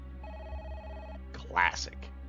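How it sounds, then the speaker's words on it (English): A phone beeping at a save point in Parasite Eve, a short repeating electronic tone over the game's background hum, followed by someone speaking. "Oh, phone's beeping."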